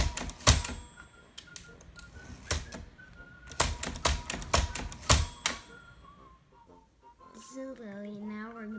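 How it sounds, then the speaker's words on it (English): Tabulator of a 1956 Olympia SM3 manual typewriter fitted with a new platen, giving a series of sharp mechanical clacks and snaps in irregular clusters, followed by a softer whirring, ratcheting slide near the end. "here's the tabulator working"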